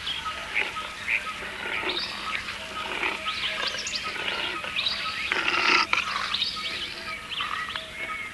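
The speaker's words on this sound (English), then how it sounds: "Now that is the sound of a leopard." Rasping, coarse animal calls repeat in a distant outdoor setting, with birds chirping around them.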